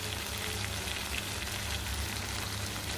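Brinjal pieces fry with ginger garlic paste in a pan over a medium flame, giving a steady, soft sizzle and crackle that runs evenly throughout without voices.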